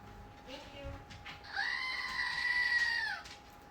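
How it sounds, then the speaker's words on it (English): A screaming goat toy lets out one long, loud, nasal bleating scream that holds steady and then cuts off, preceded by faint background murmur. "You gotta get the screaming goat"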